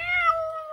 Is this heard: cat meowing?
yes